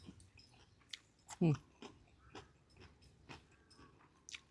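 Someone chews crunchy, soft-skinned Thai fermented pork skin (naem), giving a series of close, crisp bites and crunches, one loud snap partway through, with quiet mouth sounds between.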